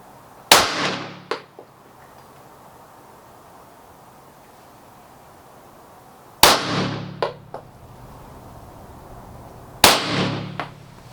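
Three sharp, loud TISAS PX-9 pistol shots fired at a target, each a single crack with a brief ringing tail and small echoes, spaced several seconds apart with quiet between.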